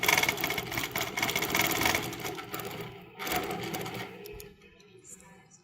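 Sewing machine stitching variegated thread along the outside of an art quilt heron, a steady mechanical whir with a brief pause midway before restarting, then trailing off quieter at the end.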